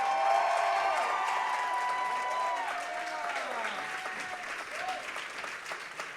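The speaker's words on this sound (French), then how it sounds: "Rainbow, applaudissez-la!" An audience applauding at a concert: dense, sustained clapping that fades slightly over several seconds, with a singing or calling voice ringing over it.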